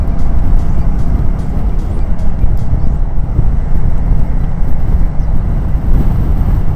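Continuous road rumble and wind roar heard from a Royal Enfield Classic 350 riding into traffic on the way into Indore, steady and loud, with no distinct horns or voices standing out.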